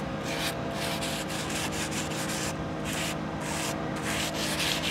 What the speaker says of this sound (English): you can just take a little sandpaper.